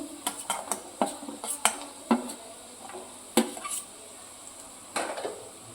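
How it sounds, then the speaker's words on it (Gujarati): Chopped carrots and potato pieces go into a pan of Chinese-style pulao, giving a run of close, light clinks and scrapes of utensil on metal with soft stirring, no talking. "હવે આપણે આમાં ગાજર નાખીશું અને આપણે બટેટું સમાર્યું છે એ નાખીશું"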